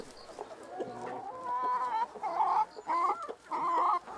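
Chickens on a farm clucking and squawking close by in a run of loud, rising calls, with softer clucks between them.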